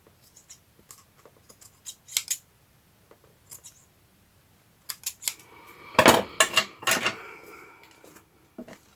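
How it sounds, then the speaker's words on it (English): Scissors snipping paper to size for a slim vintage Christmas journal, scattered quiet clicks and short cuts at first, then a louder burst of close crisp snips near the end. "let me cut this to size"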